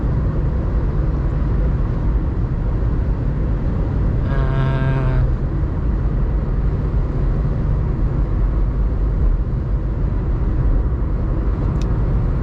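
A 2020 base VW Up with a 1.0 engine of 60 horsepower accelerates hard in third gear, a steady loud engine rumble heard from inside the car, with a brief rising tonal whine midway.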